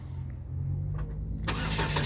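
A Chevrolet Equinox LT starts by remote start: a quiet low idle hum of the surroundings, then the engine cranks and catches about halfway through, settling into a loud, steady running rumble.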